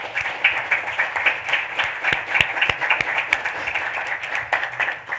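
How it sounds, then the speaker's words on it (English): A room at a school board business meeting breaks into applause, a moderate crowd clapping steadily with distinct individual claps audible near and far, no talking over it. "So please join me in giving our school board a round of applause."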